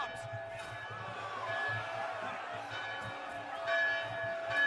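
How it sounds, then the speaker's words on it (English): Loud bells clang and ring continuously in the fantasy game Dragon Age Inquisition, layered over a murmuring crowd, with shimmering tones filling the scene. "Oh god, the bells are so fucking loud!"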